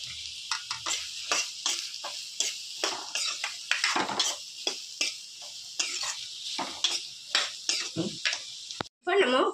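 Close clattering and scraping of a utensil stirring chopped radish and onion in a pan for chutney, in quick irregular strokes with a faint sizzle underneath, ending in a brief pause.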